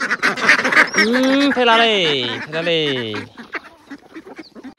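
Ducks quack loudly and close while being fed grain on an Assamese farm, a rapid overlapping chorus of nasal calls, with a person talking around them.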